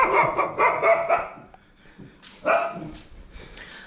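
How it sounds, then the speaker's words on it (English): Street dogs in Thailand bark in two bursts, a rapid run of close, loud barks followed by a pause and a second cluster of barks with some yipping, outdoors near a temple. "Soy dogs you've got to be careful of."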